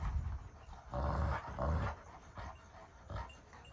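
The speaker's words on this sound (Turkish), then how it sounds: "Bunlar böyle sabaha kadar hırlaşırlar" Kangal dogs growl at each other, deep rumbling snarls rising and falling in several close, loud bursts with brief pauses between.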